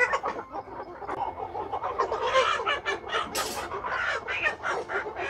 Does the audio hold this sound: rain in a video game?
no